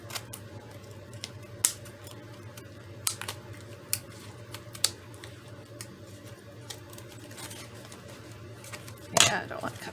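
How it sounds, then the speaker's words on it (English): Scissors snip through the paper edge of a handmade scrapbook tag, several short crisp cuts spaced a second or two apart, close and clear over a quiet background hum. "I think I'm gonna have to use scissors on this edge."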